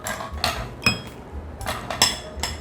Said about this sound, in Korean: 얼음 넣어줘요